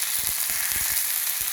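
Steaks fry in a hot skillet in a cabin kitchen, giving off a loud, continuous hiss and crackle with faint low pops underneath.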